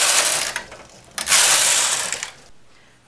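A knitting machine carriage sweeps across the needle bed knitting rows, making loud rasping mechanical passes in bursts with a brief pause between them, then a short gap before another pass begins.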